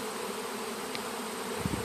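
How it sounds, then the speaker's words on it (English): Honeybees buzz among the leaves of a tree before gathering into a swarm, a steady close drone of many insects with a couple of louder passes near the end. "Now there's little pockets of bees up here and on all the other leaves."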